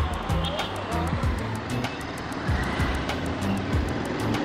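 A 2020 Bajaj Pulsar 180F BS6 motorcycle engine runs at a steady, low, moderately quiet idle. A regular clicking ticks along over it.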